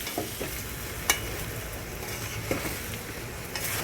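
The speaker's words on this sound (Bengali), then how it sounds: "খুব ভালো করে মিশাতে হবে এখন।" Biryani rice being stirred into chicken pulao in a pot, a steady sizzling fry with scraping stir strokes and a few sharp clinks of a utensil against the pot.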